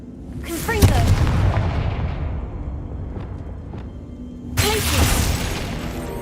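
A Confringo spell fires in Hogwarts Legacy on PS5: two loud, booming fiery blasts a few seconds apart, each with a long rumbling tail, heard close and alone.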